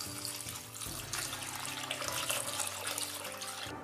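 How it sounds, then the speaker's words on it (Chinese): Large prawns are rinsed in a bowl of water in a home kitchen, giving soft close splashing and sloshing with a steady watery hiss, quiet and without talk. "把大虾全部清洗一下"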